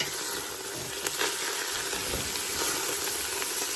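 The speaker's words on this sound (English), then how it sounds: "That's more frying than steaming." Steady, loud sizzling of chili meat frying in a hot pot, a continuous crackling hiss with faint stirring scrapes and no talking.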